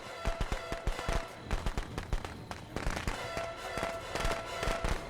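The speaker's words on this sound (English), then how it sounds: "Shoots a flare at Jason." A flare gun is fired in the Friday the 13th video game, heard as a rapid string of sharp cracking bangs spread across several seconds, loud and close, with no talk over them.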